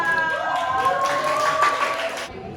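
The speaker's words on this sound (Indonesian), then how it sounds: "Kita tepuk tangan untuk kelompok Salakia." A classroom of students applauds a student group during a sociology lesson at Universitas Sebelas Maret, with steady, close clapping that runs throughout, mixed with voices and cheering, then drops away right at the end.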